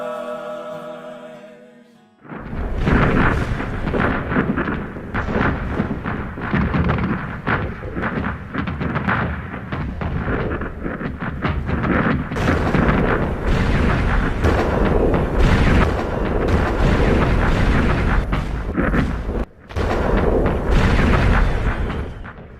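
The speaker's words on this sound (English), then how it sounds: "the barrage of heavy guns for up to 2 weeks, day and night without a break" Heavy guns firing a sustained artillery barrage, a dense, loud, continuous rumble of booms and blasts with a short gap near the end.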